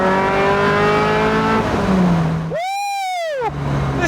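A Toyota MR2 with a swapped-in Camry engine accelerates hard from inside the cabin, its engine note climbing through rising revs, then a brief gear change and another sharp, loud rise in pitch.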